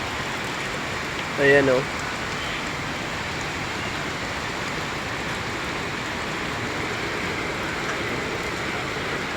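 Heavy rain pours down steadily in a dense, even hiss during a flood-prone downpour, with a brief voice speaking near the start.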